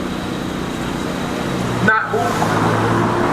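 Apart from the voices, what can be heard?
loud car passing outside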